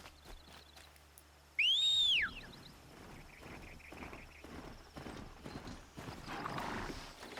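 A horse in the video game Horizon Zero Dawn gives a sharp whinny-like cry, followed by a rhythmic run of hoofbeats drumming along steadily at close range.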